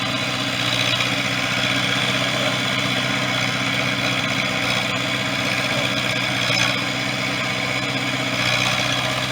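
A 1973 International loader tractor idles steadily in low gear while planting sorghum in a field, its engine a constant, even drone that fills the whole stretch without pause or voices.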